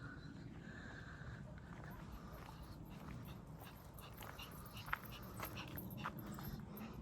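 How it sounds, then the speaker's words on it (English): A small dog on a towpath walk beside a narrowboat, heard panting softly with faint whimpers under steady outdoor background noise and a brief light tap, low and close. "You getting puffed, little dog?"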